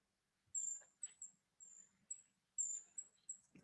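A brown creeper gives a series of very thin, high-pitched call notes outdoors in winter, about eight short faint tseee sounds spaced irregularly against near silence.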